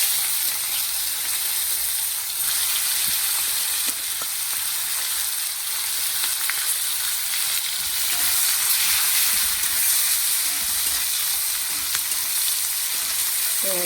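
Chopped onion frying in a pan after panch phoron spices, a continuous loud hiss and sizzle with a few faint stirring clicks and no talking.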